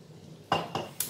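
A spoon clinks against a pot of carrot vegetable soup three times in quick succession, each a crisp metallic tap, close and fairly quiet with no talk.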